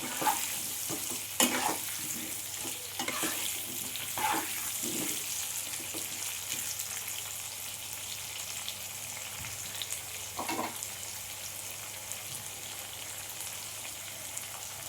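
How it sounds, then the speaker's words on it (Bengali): Potato pieces fry in hot oil for a rahu fish curry, giving a steady, soft crackling sizzle throughout, with a few sharper pops and occasional stirring scrapes and no voices. "আলুগুলো আমার লাল লাল করে ভাজা হয়ে গেছে"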